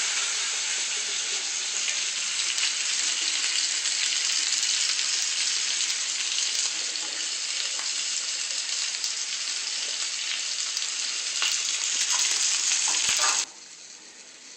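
Chicken in a garlic butter sauce sizzles and fries steadily in a pan, a dense continuous crackle that runs loud and close until it drops abruptly near the end.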